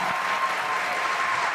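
Steady audience applause for a masked singer in a Strawberry costume on a Mask Singer-style show, a dense wash of clapping sustained throughout without pause.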